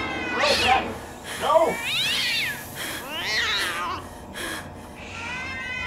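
Cats in the horror video game Ju-On meow and caterwaul several times in drawn-out, wavering cries, loud and close, with a brief shout from a player between them.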